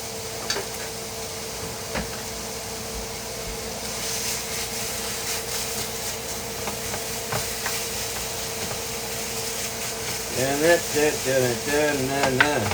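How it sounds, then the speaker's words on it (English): A pound of ground beef browning in a preheated pan, with a steady sizzle and hiss throughout and a few stirring scrapes, the frying growing louder and busier toward the end. "start with a pound of ground beef. Had that pan heating up for a little bit, so I'm just gonna give that a quick stir"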